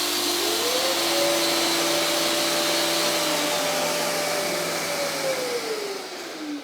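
A dust extractor whirs up together with a Dewalt router fitted in an X-Carve CNC, a loud steady motor whine rising in pitch as it spins up, holding, then slowing, with no talking.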